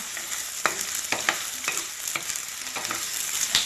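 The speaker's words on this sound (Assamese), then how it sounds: "পিঁয়াজখিনি তেলত দি দিছোঁ ন।" Chopped onions fry in hot oil in a pan for a pigeon curry, giving a steady loud sizzle with repeated scraping strokes of a stirring spoon, with no voices.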